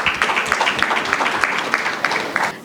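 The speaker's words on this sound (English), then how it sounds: "a round of applause for him" Audience applause at an entrepreneurship and global branding talk: a steady wash of many hands clapping, fairly close and even, with a few sharper claps standing out, over about three seconds.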